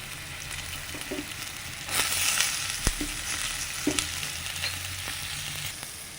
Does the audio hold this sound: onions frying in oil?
yes